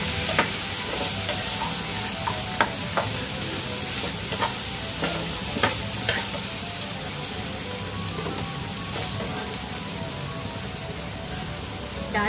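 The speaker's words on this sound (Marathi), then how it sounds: "कांदा छान परतला गेलाय आणि डाळ पण चांगली शिजली आहे।" Onion and soaked dal sautéing in a pan for a wild-greens bhaji, a steady sizzle broken by repeated scraping stirs and spoon taps at irregular intervals, with no talking.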